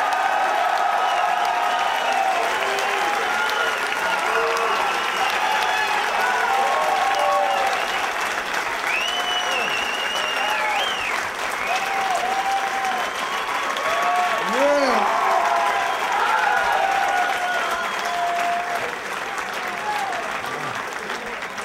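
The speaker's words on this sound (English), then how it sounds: "I've never seen a 16th of a standing ovation before." Roast audience applauding a comedian, sustained clapping from a large crowd that stays steady for over twenty seconds, with scattered whoops and cheers rising through it.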